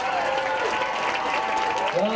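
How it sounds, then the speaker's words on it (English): An audience applauds after a fourth-grade school performance, a steady wash of many hands clapping at moderate distance, with voices and brief tonal sounds running underneath. "take your hands out of your pockets and give them a round of applause."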